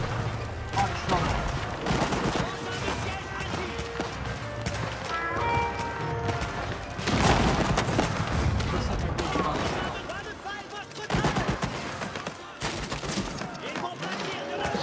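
Cannon artillery in Age of Empires 4 fires in a busy battle, with repeated gunfire-like bursts and clattering over a dense mix of game sounds and music, and someone talking throughout.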